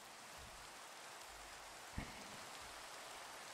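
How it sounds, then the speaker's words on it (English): Steady rain in the Minecraft video game, an even hiss of falling drops that continues throughout at low level, with one brief thump partway through. "This damn rain."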